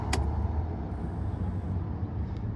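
A Honda Pioneer 520 side-by-side, 2026 model bought new, starts with a brief crank burst and then settles into a steady low engine idle rumbling close by, with no talk.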